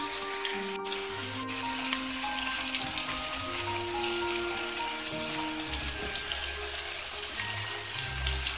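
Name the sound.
stir-frying scallion, ginger, garlic, fermented black beans in oil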